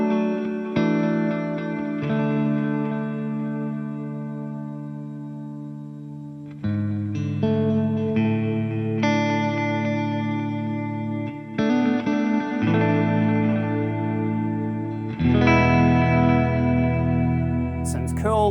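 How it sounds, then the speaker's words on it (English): Electric guitar chords ring out through a Fender Tone Master Pro amp modeller with a modulated large hall reverb, each strum sustaining into a long, shimmering wash, several chords played in slow succession. "Let's add something quite crazy. Modulated large hall reverb."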